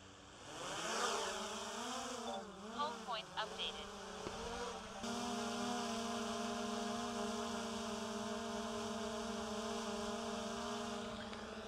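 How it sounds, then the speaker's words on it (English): A small DJI Mini 4 Pro drone spins up from start-up, its high propeller whine wavering and stepping before settling into a steady buzzing hover tone at close range. "the DJI Mini 4 Pro. Just at idle, start up,"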